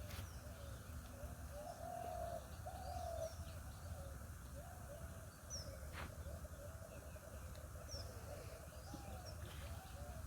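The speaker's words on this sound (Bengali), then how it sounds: "ওই পাখিগুলো ডাক শুনতে অনেক ভালো লাগে" Birds call through a rural village morning, with repeated dove-like coos and scattered chirps over a steady low outdoor rumble, no voices.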